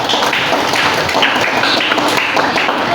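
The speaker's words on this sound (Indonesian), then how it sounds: "Kita tepuk tangan dulu buat ibu" Students in a sociology classroom clap for their teacher: a dense, steady patter of many hands close by with some heavier thumps mixed in, lasting the whole stretch at a strong, even level.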